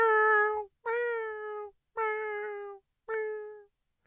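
A cat meows four times in a row, each call long, loud and close, separated by short silences.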